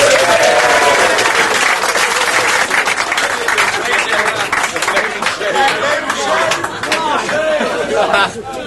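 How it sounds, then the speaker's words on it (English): At a clay shooting charity event, a crowd gives a hearty round of applause for the last-placed team, bright clapping mixed with chatter and scattered voices that gradually tapers. "Round of applause to the Odd Shots."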